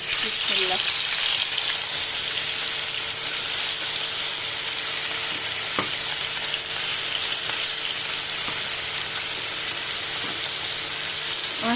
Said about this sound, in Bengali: আমার তেল গরম হয়ে গেছে এখন আমি একে একে কই মাছগুলো দিয়ে দিব